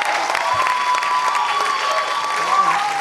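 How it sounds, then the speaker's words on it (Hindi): An audience at a music band launch event claps loudly and steadily, sustained applause filling the hall for a few seconds. "आपके लिए जोरदार ताली बजाइए"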